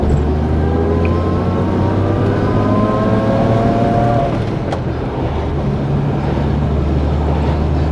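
A car engine pulls steadily in second gear with the throttle pressed, a continuous loud droning hum with rising harmonic tones, heard from inside the cabin without talk.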